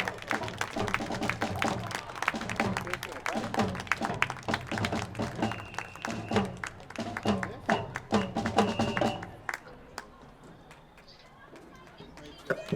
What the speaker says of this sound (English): let's give another large round of applause for the Millis Marching Band